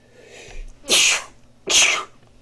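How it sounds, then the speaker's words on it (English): Two loud sneezes in quick succession, close to the microphone, with a short quiet gap between them. "I think I'm going to sneeze here in a minute."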